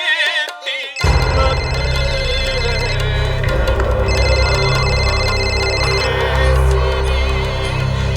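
A telephone rings for an incoming call, a steady electronic ringtone pattern sounding loud and continuous over a background of music-like drama score, with no talk over it.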